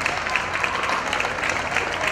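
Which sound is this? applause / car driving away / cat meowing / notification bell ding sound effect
applause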